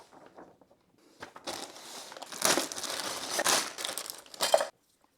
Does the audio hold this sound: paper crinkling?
yes